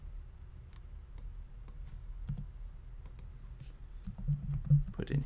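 Password being typed on a computer keyboard during a web module login, heard as faint, scattered key clicks close by over a quiet room hum, with a slightly busier burst of taps near the end.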